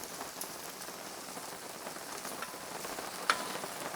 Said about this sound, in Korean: 아, 이 빗소리 너무 좋네요.